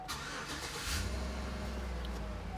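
A 2012 Chevy Tahoe LT with a rough idle cranks and catches, then settles into a low, steady idle rumble, close and fairly quiet, with no talk.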